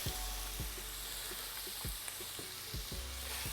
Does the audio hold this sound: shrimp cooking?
yes